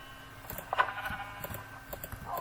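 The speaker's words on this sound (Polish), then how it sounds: "Owce trzeba pozabijać." A sheep in the video game Minecraft gives a short, soft bleat over quiet background game sound, with other faint noises around it.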